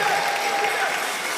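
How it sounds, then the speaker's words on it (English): Audience clapping at a live gas challenge contest between university teams: a continuous wash of applause from a crowd, even and fairly loud throughout, without individual claps standing out. "Let's clap for them."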